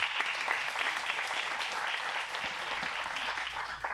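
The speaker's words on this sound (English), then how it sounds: "So let's give them a round of applause." An audience at a business talk gives the event sponsors a round of applause, an even, sustained crackle of many hands clapping together, moderately quiet and steady for several seconds.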